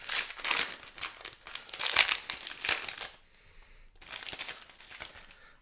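A trading card booster pack wrapper is crinkled and torn open, close and crisp in bursts, with a short pause before more crinkling; no talking.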